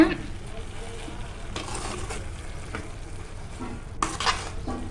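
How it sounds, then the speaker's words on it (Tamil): Vermicelli, 250 grams, is stirred into a pot of cooking vegetables for semiya biryani, giving scraping spoon strokes and a soft sizzle, close, with a few louder clatters near the end. "250 கிராம் சேமியா சேர்த்துடலாம். சேர்த்துட்டு நல்லா கிளறி விட்டுக்கோங்க."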